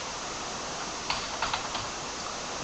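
A few quick keystrokes typing a command on a computer keyboard, soft clicks clustered near the middle over a steady background hiss.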